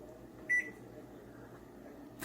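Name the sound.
kitchen timer going off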